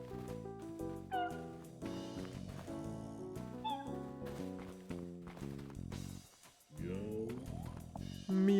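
Cats meow in a video game, a run of drawn-out, tonal, somewhat human-sounding calls over a musical backdrop, repeating throughout at moderate loudness, with a short gap near the end before another meow.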